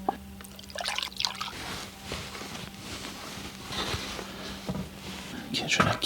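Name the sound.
old gasoline poured into engine intake holes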